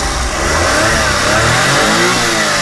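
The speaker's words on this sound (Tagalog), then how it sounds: "So try natin yung power ng ating makina." A Suzuki Every Wagon 4WD mini van's K6A 660cc turbo engine with a 4-speed automatic revs hard, a loud, steady mechanical roar that holds close and continuous throughout.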